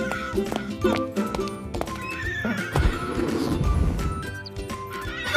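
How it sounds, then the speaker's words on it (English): A cartoon horse whinnies while hooves clip-clop in steady beats, all set over upbeat children's music in an animated alphabet lesson. "H for horse."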